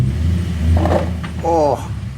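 A car rolls into a residential driveway with a low engine rumble close by, while voices talk over it throughout.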